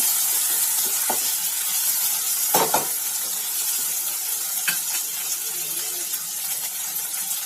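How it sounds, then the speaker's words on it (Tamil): Okra tamarind curry is stirred in a pan after salt is added, giving a steady sizzling hiss with a few soft scraping and clinking stirs from a spoon, close and even, with no talking. "உப்பு போட்டு கொஞ்சம் நல்லா கிளறி விடுங்க"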